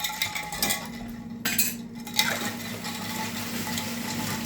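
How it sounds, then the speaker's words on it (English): A spoon stirs a Manhattan whiskey cocktail in a mixing glass, giving light, steady clinks and scrapes of metal against glass and ice, close and fairly quiet with no talk. "Then I'm going to give this guy a little stir."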